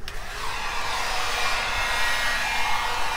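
A heat gun blows steadily on EVA foam armor pieces, a close, continuous airy whoosh that holds level for a few seconds with no speech.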